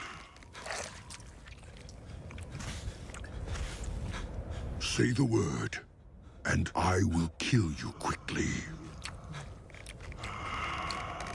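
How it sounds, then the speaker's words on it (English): Wet, crunching chewing and gnawing sounds come from the Lords of War cinematic, surfacing in bursts beneath a character's menacing speech, with scraping textures and moments of near silence between. "Oh, that chewing noise is horrible."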